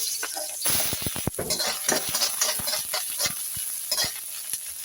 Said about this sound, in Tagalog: Igigisahin ko na itong bawang sa sibuyas.